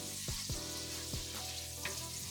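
Minced garlic gets stirred in buttery spread in a pan, a soft, fairly quiet sizzle punctuated by a few scraping sweeps of the utensil.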